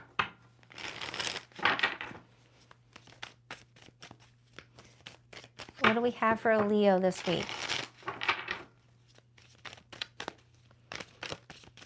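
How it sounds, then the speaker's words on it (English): Tarot cards shuffled by hand in bursts of crisp riffling and crinkling, strongest in the middle, with someone talking before and after over a low steady hum. "2 more shuffles for Leo."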